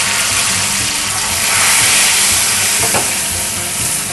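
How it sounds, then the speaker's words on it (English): Melted butter and a splash of water sizzling hard in a hot pan, a loud dense continuous hiss and crackle close to the microphone. "I'm going to pour in about a quarter cup of water. Kind of get that sizzling around."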